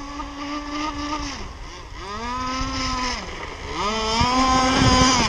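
A ZippKits Super Sport model motorboat engine whines steadily on the water, its pitch sweeping up and down in repeated revs, close and fairly loud.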